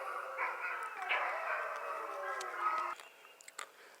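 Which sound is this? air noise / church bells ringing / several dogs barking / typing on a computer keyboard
several dogs barking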